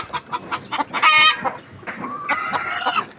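Desi parent hens on a native chicken farm cluck in quick close bursts, with a longer drawn-out call rising in the middle and more calls layered near the end.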